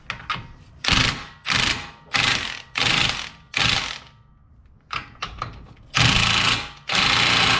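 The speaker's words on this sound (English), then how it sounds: "we're going to retighten down the axle nut" Ratchet tightening the axle nut on a Jeep Renegade, close and loud, in a series of short rapid clicking bursts with brief pauses between them, ending in two longer ratcheting runs.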